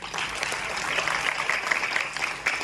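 Dense, sustained audience applause fills a hall at a classical music festival's felicitation ceremony in Pune, steady and loud throughout, with no voices standing out.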